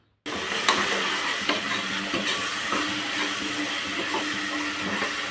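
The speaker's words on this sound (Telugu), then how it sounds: "కొంచెం అల్లం వెల్లిగడ్డ పేస్ట్ వేసుకొని కలుపుకోవాలి." Ginger garlic paste stirred into a sizzling mutton curry base, a steady loud frying hiss with scraping spoon strokes throughout, no voices.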